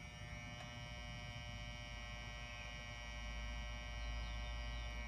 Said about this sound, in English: You can hear the hum of the ballast